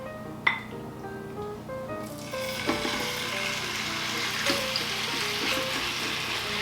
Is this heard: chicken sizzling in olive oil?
yes